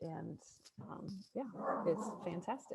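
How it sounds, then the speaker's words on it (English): A pet dog barks at a mail truck, with short yips and barks mixed in with a person talking close by. The dog is faint and hard to separate from the voice. "that's my dog barking at the mail truck"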